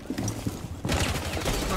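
Rapid automatic gunfire from the Rainbow Six Siege video game erupts partway through, a dense, loud run of overlapping shots that continues to the end after a quieter stretch of game ambience and faint voice chatter.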